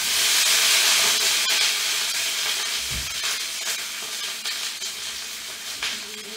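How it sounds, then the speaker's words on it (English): Steady, loud sizzling hiss of potato fries shallow-frying in a hot pan, continuous throughout with a brief low thump near the middle. "I just fry it, no deep frying, just fry it."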